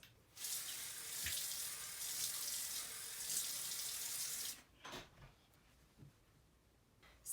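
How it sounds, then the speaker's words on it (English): A bathroom tap runs steadily into a sink for about four seconds while someone washes their face. Then the flow stops, leaving a few close splashes and drips in the quiet. "washing my face."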